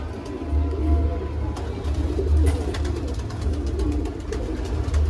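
A Shanpuri fancy pigeon, thin and fine-bodied, coos repeatedly at close range for several seconds over a steady low hum, with no talking.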